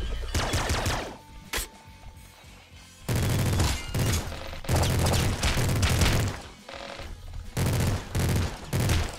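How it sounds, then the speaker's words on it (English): A super splinter gun firing in the top-down shooter Nuclear Throne, in loud dense bursts of rapid crackling shots separated by short gaps, with sharp impacts and shattering hits layered over the volleys. "Okay, we got a super splinter gun there."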